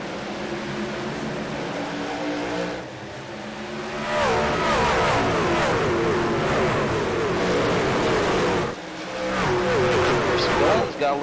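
Race cars surge away at the green flag start of a Dover race, engines revving loudly as the pack accelerates past, with a brief dip and renewed roar, while a commentator talks over the noise.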